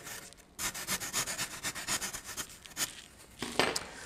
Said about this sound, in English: You just pull the sandpaper over.